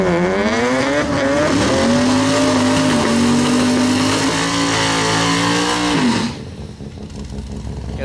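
Drag race cars, an 80s Chevy Nova and a Mazda RX7, roar loudly down a track as an engine revs up through a sustained high whine, then fades off after about six seconds.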